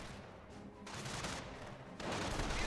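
Bursts of rifle and machine-gun fire in the World War II strategy game Company of Heroes, moderately distant and crackling in uneven rapid volleys, with a louder surge near the end.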